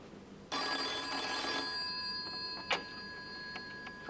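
A telephone rings with one steady electronic trill, then stops, leaving a few faint ticks and clicks in a quiet room.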